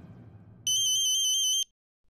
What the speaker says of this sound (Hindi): देखिए तो विष्णु का फोन है का?